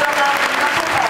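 Loud, dense applause from a crowd at a music award event in Mirandola, a short continuous burst of many hands clapping close by, with a slight crowd murmur underneath.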